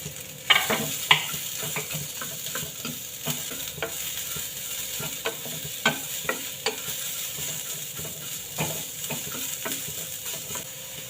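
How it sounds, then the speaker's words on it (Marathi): Chopped onion fries in oil in a pan for palak paneer, a soft continuous sizzle broken by sharp scraping stirs and clicks of a spatula, fairly close and quiet. "आता आपला कांदा छान असा लाल खरपूस भाजून झालेला आहे"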